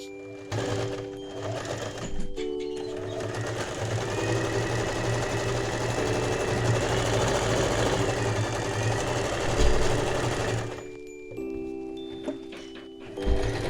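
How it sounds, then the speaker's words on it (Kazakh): Sewing machine stitching a seat cover for an Audi, running in a long steady whirring buzz for several seconds between brief stops and restarts, close and fairly loud. "Міне осылайша үйге әкеліп тігіп жатырмыз."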